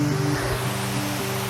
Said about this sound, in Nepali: वाटरफल्स चाहिँ यति दामी छ कि यहाँको